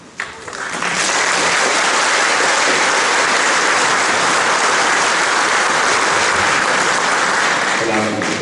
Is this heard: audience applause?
yes